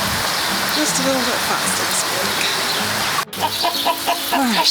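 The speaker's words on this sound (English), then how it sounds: "It's pouring with rain at the moment" Heavy rain pours down steadily over a farmyard during chicken chores, with hens clucking nearby and a person speaking briefly over the downpour.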